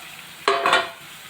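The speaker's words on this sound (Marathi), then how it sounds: "आपण हे जे मूग आहेत कुकरला वाफून घेतले होते ते मूग आपण घालत आहोत" Steamed moong beans drop into a hot pan with a sudden close sizzle and a brief rustling scrape, fading after about half a second.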